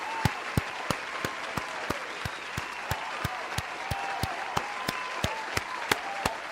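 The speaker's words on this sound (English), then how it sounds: "Clap it up for them." Audience applause at a live Elks tournament highlights show, a steady wash of clapping with sharp, evenly spaced claps cutting through at moderate distance, no talking over it.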